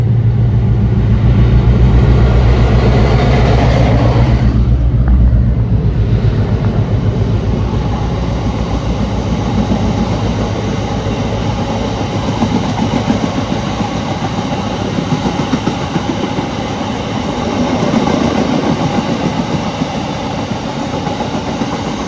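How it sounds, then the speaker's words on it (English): Class 60 diesel locomotive hauling an empty stone train, a loud continuous engine drone and rolling rumble of wagons close by, with faint rhythmic wheel clatter through the middle and later stretches. "Firstly, we saw a Class 60 on an empty stone train."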